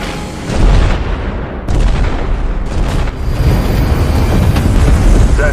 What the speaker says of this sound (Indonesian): tembakan meriam mulai menghujani pelabuhan Incheon